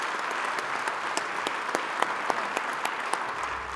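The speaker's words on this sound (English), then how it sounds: "they deserve a really big round of applause as a collective group" An audience at an ice hockey award ceremony claps steadily, a dense, even round of applause from an indoor crowd with sharp individual claps standing out, and no talking over it.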